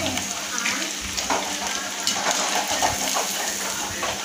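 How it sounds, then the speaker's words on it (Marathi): Potato manchurian deep-frying in hot oil, a steady dense crackling sizzle that carries on throughout with a voice speaking over it. "आपण हे मस्त तेलामध्ये तळून घेऊया"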